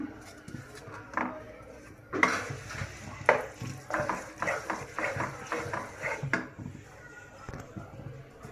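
Shredded chicken is stirred into a white sauce in a pan, giving uneven scraping and clattering strokes of a spoon against the pan, with a voice talking over the cooking.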